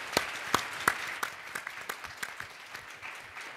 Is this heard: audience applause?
yes